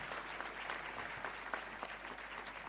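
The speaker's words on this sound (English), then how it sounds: "can we please give all our panelists a warm round of applause?" An audience at a business summit applauds its panelists, a faint, steady patter of many hands clapping throughout with no speech over it.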